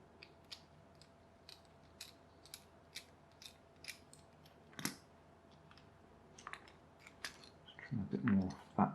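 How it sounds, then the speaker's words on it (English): A small part of an RC spiderbot being rubbed down on sandpaper, faint short scratchy strokes in a fairly regular rhythm, growing busier and louder toward the end. "I'm just rubbing it down on a bit of sandpaper"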